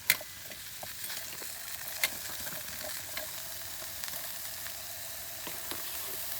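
Mushrooms frying in oil in a camping pan give off a steady, fairly quiet sizzle, with a few sharp clicks and taps from the pan scattered through it.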